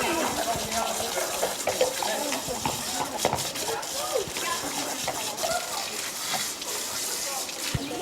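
A horse at an equestrian centre is hosed down with running water, a steady close spray and splashing that continues throughout, with people talking over it.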